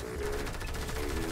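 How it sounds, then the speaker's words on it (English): Video game pistol fire in a pistols-only match, a rapid series of sharp shots at moderate level, repeating evenly across a short stretch. "Shooting at him."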